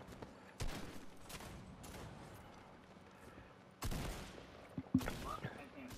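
Light machine gun fire in the Fortnite video game, with loud, sharp bursts around the one-second and four-second marks and scattered shots near the end over a low, busy game background.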